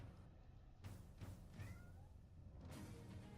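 Cat meowing to be let in, giving a few faint, thin mews spread over several seconds against a low background rumble, with no voices.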